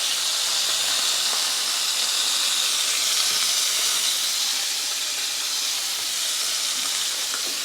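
A rib eye steak sizzles in a hot iron skillet, a loud, steady, close hiss of frying fat with grease spattering throughout and no voices.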